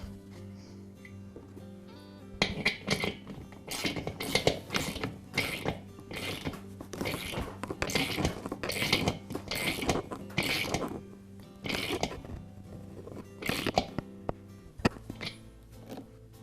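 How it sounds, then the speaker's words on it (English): A new check valve being threaded and tightened into the tank of a Porter Cable air compressor, heard as bursts of rapid ratcheting clicks from a wrench with short pauses between them, close and clear, with no talking. "all I need to do is thread it into the tank and tighten it up"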